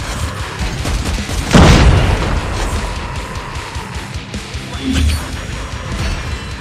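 A predator missile strike in Call of Duty Mobile lands as one heavy boom early on, followed by rumbling aftermath and a smaller thud later amid dense battlefield noise.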